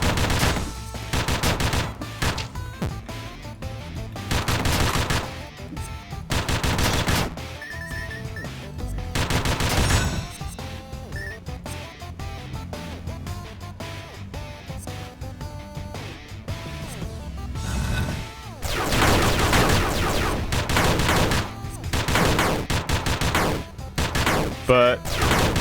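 Rapid bursts of gunfire from the player's gun in the action game Dungreed, repeated shots through the whole stretch over constant game music and effects, with a voice talking throughout.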